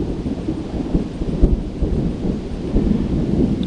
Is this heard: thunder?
yes